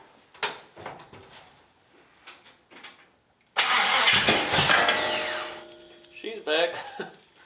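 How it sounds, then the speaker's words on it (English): A 1967 Chevrolet C10 truck engine is cranked and catches, roaring up loudly after a few seconds of quiet clicks and shuffling, then settling as a voice speaks briefly near the end. "We're going to try to crank this thing over and let her eat."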